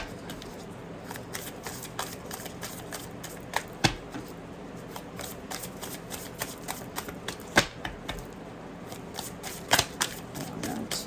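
Tarot cards being shuffled by hand, a continuous soft riffling and papery flicking with sharper snaps every few seconds, close and fairly quiet against a faint background hum.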